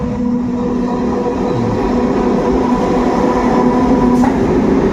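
A Kharagpur–Ranchi MEMU express train pulls into Bishnupur station with a loud, steady rumble and low rail hum. It rolls on continuously for the whole stretch with no voices.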